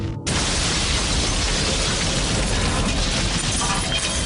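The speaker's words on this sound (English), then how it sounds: "a terrifying explosion rips through Legian Street." A loud, sustained blast of roaring noise from a bomb explosion on Legian Street, Bali, filling the whole clip after a brief quiet start, harsh and broadband with rumble and debris.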